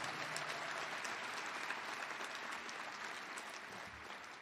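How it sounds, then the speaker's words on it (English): Audience at a teacher-of-the-year gala gives Roland a sustained round of applause, dense even clapping heard somewhat faint and distant that tapers slightly toward the end. "I'd like you to give a really big hand applause for him."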